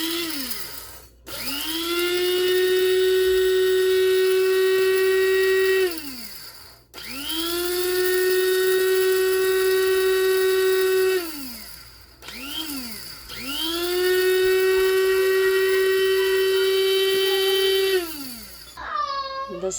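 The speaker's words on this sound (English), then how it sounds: "give it a couple minutes of pulsing in the grinder" An electric grinder pulsing dock seeds for crackers: three loud, close bursts of whining motor, each spinning up, holding steady for about five seconds and winding down, separated by brief pauses.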